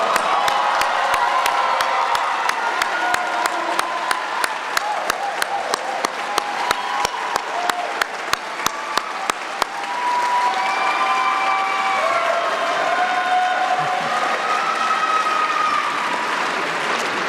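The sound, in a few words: commencement audience applauding graduates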